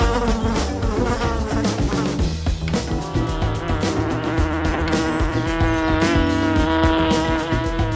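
A dense, loud buzzing of many bees swarms continuously, layered over droning tones that rise and shift throughout.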